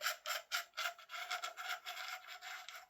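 Plastic end cap of a PTS airsoft tracer unit being unscrewed, a close, quiet run of gritty rubbing rasps in short repeated twists, with no talk.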